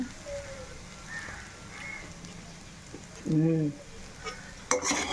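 Vegetable fried rice is stirred and tossed in a hot pan, with a soft sizzle and light scraping. A voice speaks briefly over the cooking.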